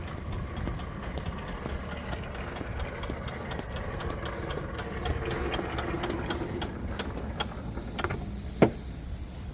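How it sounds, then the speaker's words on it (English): Vego Garden 100 ft garden hose retracting into its reel in a backyard, a continuous rattling, ticking whir lasting several seconds with a sharp clack near the end. "To retract the hose, just do the opposite of bringing it out."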